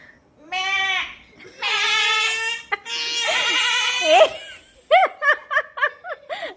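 A person imitates a goat's bleat with wavering, nasal cries, mixed with laughter and snickering, ending in a run of short, quick bleats, close and loud.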